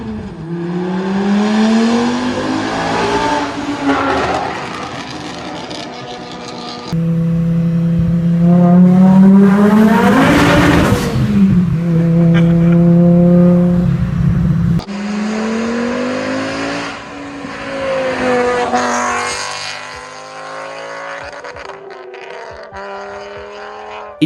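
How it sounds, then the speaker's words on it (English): A loud, close VW 07K five-cylinder engine revs up and down in three separate bursts, with a throaty, uneven, offbeat growl that climbs and falls in pitch. "And then there's the sound, that offbeat 5-cylinder growl."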